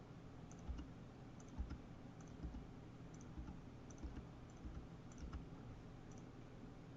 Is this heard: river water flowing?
no